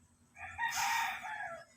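A rooster crows once, a loud drawn-out cock-a-doodle-doo rising and holding before trailing off, close by with faint background noise.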